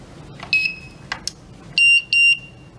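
Electronic beeps from a Footc scooter control board not connected to the other side: a short high double chirp, then two longer steady tones, loud and close, with faint clicks between.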